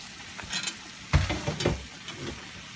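Food sizzling in a hot pan during meal prep, a soft frying hiss broken by clattering and scraping as it is stirred, fairly close and with no talk.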